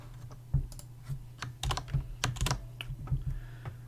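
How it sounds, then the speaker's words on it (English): Keys clatter on a computer keyboard in uneven bursts of close, crisp taps, with a low steady hum underneath. "If I just press those buttons, I get the square brackets."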